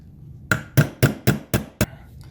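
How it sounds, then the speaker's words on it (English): A small hammer taps pins into an Aero Precision Atlas rail: six sharp, close metallic strikes at an even rhythm, with a faint tick at the end and no voices. "let's try the smaller hammer first"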